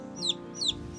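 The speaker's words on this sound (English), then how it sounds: "And she takes care of her chicken." A chicken gives three quick, evenly spaced clucks, close and distinct over a steady low background hum.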